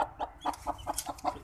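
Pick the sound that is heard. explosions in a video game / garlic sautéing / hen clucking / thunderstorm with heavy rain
hen clucking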